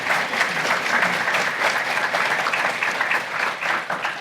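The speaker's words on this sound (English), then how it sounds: "Give them all a round of applause for coming up here." Conference audience applauding the panelists at an AI and digital-twins talk, a dense, continuous wash of many hands clapping at steady loudness throughout.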